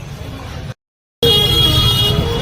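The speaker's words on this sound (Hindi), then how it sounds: "कितना ट्रैफिक हो रहा है" Road traffic at a busy street market in Jafrabad on a cold night, loud and close, with steady engine rumble and sustained car horn tones after a brief dropout to silence.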